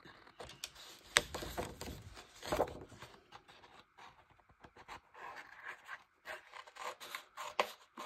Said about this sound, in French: je vais le faire au ciseau, ça sera plus simple